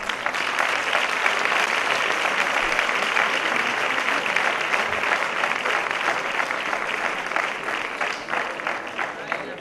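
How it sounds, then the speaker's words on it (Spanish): At a sports awards gala for young regional championship athletes, an audience claps steadily and loudly, a thick continuous roar of hands that holds through the whole stretch. "¡Aplauso para todas ellas!"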